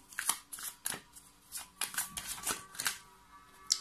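Tarot cards are shuffled and drawn in a close, dry series of crisp riffles and snaps, about a dozen irregular bursts over a few seconds with no talking.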